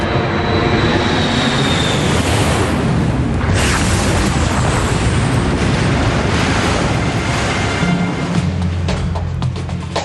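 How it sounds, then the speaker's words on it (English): An aircraft strikes the ocean at high speed after an in-flight fire, heard as a sustained, very loud roar of engine noise and rushing turbulence with a heavy booming impact and surging water, dense and unbroken throughout. "The aircraft hits the water with a force of 350 Gs."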